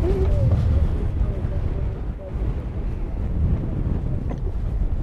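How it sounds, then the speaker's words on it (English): Heavy wind buffets the built-in microphone of a Canon EOS RP camera outdoors in a continuous low roar and rumble, loud and unbroken throughout, with a voice faintly speaking under it. "because it's so windy."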